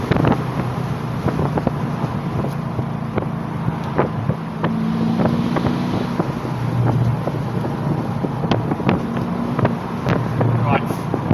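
Mercedes SLK55 AMG R172 V8 with an exhaust valve actuator bypass, a steady loud engine and exhaust drone from inside the moving car, with wind noise and occasional talk over it.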